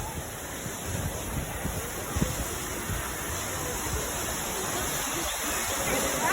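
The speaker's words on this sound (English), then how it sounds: "It's kind of windy, kind of cold, and that water is splashing up on me." Steady rushing water splashes under gusty wind at Disney's Animal Kingdom on a cold, windy day, a continuous broadband roar with microphone buffeting and no clear pauses.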